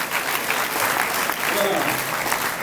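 Audience applause fills a university hall at Université Alassane Ouattara de Bouaké during a peace-culture awareness event, a dense, steady wash of clapping from many hands heard close and loud throughout.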